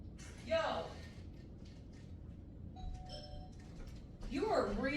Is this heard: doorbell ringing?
yes